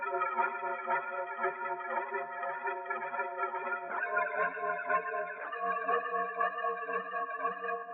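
Smooth R&B beat processed through a shaper box with panning, a filter, flanger and reverb, sustained layered chords that pulse rhythmically and shift pitch partway through, swirling and moving across the stereo field, with no voices.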